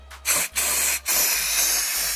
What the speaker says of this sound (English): you're just spraying a bunch in here.